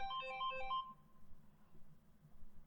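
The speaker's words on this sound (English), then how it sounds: "oh, hold on, the phone's ringing." A phone ringtone plays a quick, bright melodic pattern close by for about a second, then cuts off, leaving faint room noise.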